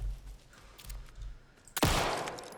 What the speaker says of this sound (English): I shot it.